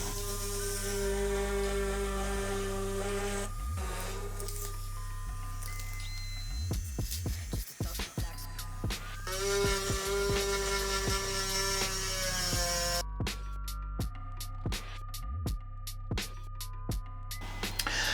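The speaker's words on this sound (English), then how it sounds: "So the tool I'm using is a Melody Susie nail drill." A Melody Susie electric nail drill carving a foam pumpkin gives a steady high motor whine with shifting pitch. It is interrupted by short bursts and clicks as the bit starts, stops and bites into the foam, close up throughout.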